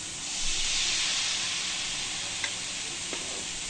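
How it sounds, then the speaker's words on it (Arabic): Mkhanfar batter poured into a large hot frying pan, giving a bright, steady sizzle that swells early and then holds, with a couple of faint clicks from utensils and no talking. "وغادي نخوي فيها داك الخليط ديال العجين"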